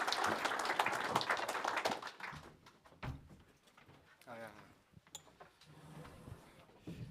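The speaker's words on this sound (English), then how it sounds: "Please give them a round of applause." Conference audience applauds speakers and panelists, a burst of clapping for about two seconds that quickly dies away, followed by scattered thumps, room noise and a voice speaking.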